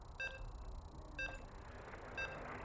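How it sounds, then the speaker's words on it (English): Three evenly spaced electronic beeps, about one second apart, signal loading into a StarCraft 2 match, clear tonal chirps over a low background hum. "As you can hear the beeps, we're loading into the ace match."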